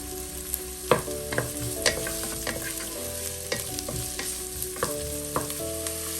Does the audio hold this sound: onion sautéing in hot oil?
yes